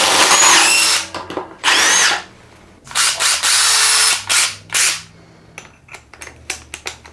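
Milwaukee Gen 4 2953 and DeWalt 20V 840 cordless impact drivers drive a 3/8 drill bit in loud, close bursts. Several rapid hammering runs of about a second each are separated by short pauses and followed by a few sharp clicks.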